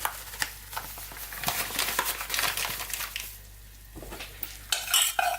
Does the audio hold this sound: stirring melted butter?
yes